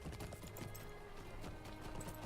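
Horse hooves clip-clopping steadily while riding in the game Lord of the Rings Online, a quick even rhythm of soft thuds that runs through the whole moment over a dense background.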